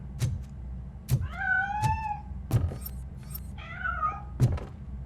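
A cat meows several times in RoboCop: Rogue City, drawn-out rising cries spaced between soft thuds and footsteps, close and clear with no talk.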